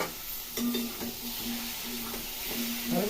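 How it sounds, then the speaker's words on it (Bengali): Tomatoes sautéing in a pan, a soft steady sizzle with faint repeated scraping of a spatula stirring, fairly quiet and without talk. "ভালো করে কষিয়ে নিই"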